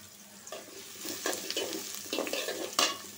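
Onion and whole spices fry in a pan with a steady sizzle, broken by a few sharper scrapes and stirs of a spoon; close and fairly quiet, with no talking.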